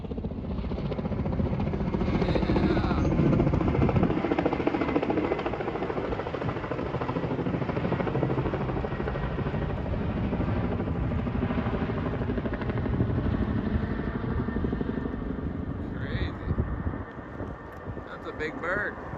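A helicopter used for heli-logging flies overhead, its steady, heavy rotor drone loud and continuous with some wind buffeting, and its pitch shifts slightly as it moves.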